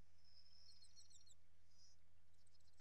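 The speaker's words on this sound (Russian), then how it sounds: "Птички поют, кузнечики сверещат." Faint, distant birdsong by a lake, with brief high chirps and a short twitter over a quiet, steady low background.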